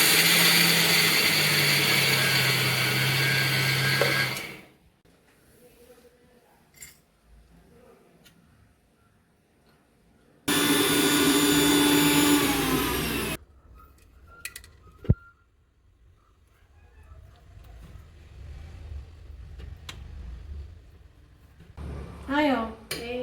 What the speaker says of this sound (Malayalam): ഇനി ഇതിട്ട് മിക്സിയിൽ നല്ല പേസ്റ്റായിട്ട് അരച്ചെടുക്കണം.